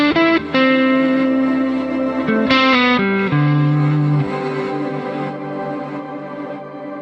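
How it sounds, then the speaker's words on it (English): Electric guitar played through a Quad Cortex with reverse delay and shimmer reverb, sustained chords and swelling notes that bloom and then trail off into a long, shimmering reverb tail, played alone. "sound of the shimmer reverb kind of restrained until you want it to come in after you're done playing"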